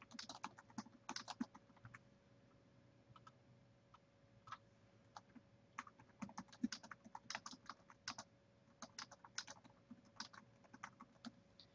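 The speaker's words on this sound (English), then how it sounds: "I'm going to type exactly what's written up here." Quiet computer keyboard typing, with irregular runs of soft key clicks and short pauses, close and alone against a low steady hum.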